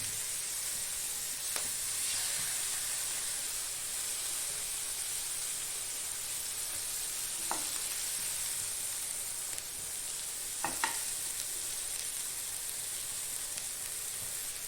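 Fish frying in butter and milk in a pan gives a steady, close sizzling hiss that runs throughout, with a few faint clicks or taps here and there and no talking.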